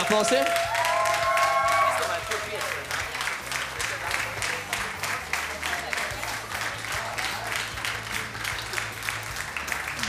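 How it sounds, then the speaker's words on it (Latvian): Studio audience applauding on a karaoke TV show, dense rhythmic clapping that carries on steadily for the whole stretch, with a brief tonal sting at the start and a host speaking early on. "Tad, jā, jūs ar aplausiem."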